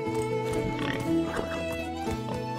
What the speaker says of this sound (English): Did I just hear a pig?